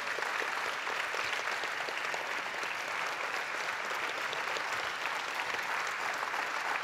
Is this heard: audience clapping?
yes